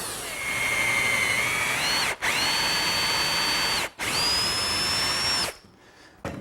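A power drill whines at high speed while boring a screw hole into a wooden Windsor chair post, running in three long bursts with brief pauses before it winds down.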